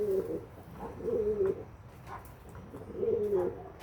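Pigeons coo in repeated low, throaty phrases, close by, with short pauses between calls.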